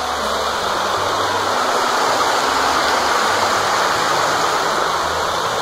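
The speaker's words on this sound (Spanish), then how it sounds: "Ya está llena la laguna y entonces al llenarse obviamente tiene que desbordar. Por aquí desborda esta agua." Water from a full mountain lagoon spills over and rushes down a ramp, a steady, loud, close wash of flowing water with no voices.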